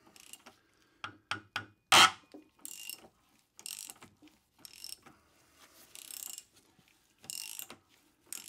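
A stud puller works old, badly corroded cylinder head studs out of an Atomic 4 marine engine, giving close, intermittent metallic clicks, ratcheting and scraping in separate bursts with pauses between.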